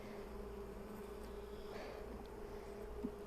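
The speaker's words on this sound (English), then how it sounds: "Not a lot of bees in here." A faint, steady buzzing of honeybees around an open hive during an inspection drones on continuously at low volume, with no talking.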